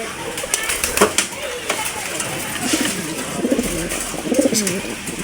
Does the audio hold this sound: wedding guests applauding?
no